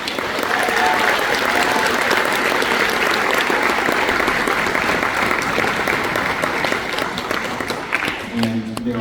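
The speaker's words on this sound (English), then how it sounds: "Can we give all of them a round of applause?" An audience at a district honor band concert applauds steadily and loudly for about eight seconds before the clapping fades and a voice begins speaking.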